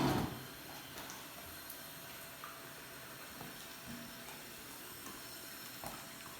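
Steady hissing roil of sap boiling hard in a maple syrup evaporator fired by a Steam Slayer burner, with steam rising, a broad continuous wash of noise at low level with faint clicks and knocks.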